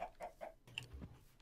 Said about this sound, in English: Another chicken.